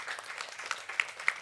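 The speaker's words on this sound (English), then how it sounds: "So if you may join me in doing a round of applause for the excellent job they did last year." Brief, light applause at a general assembly of a library and information association in Curacao, a thin patter of hands with a few sharper claps standing out toward the end.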